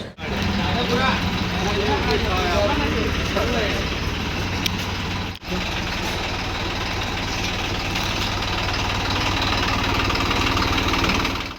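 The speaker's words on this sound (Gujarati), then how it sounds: "દિનેશભાઈએ નવું ટ્રેક્ટર લીધું છે" A new tractor's engine runs loud and steady with a deep, throbbing rumble, dipping briefly once midway, and voices can be heard over it.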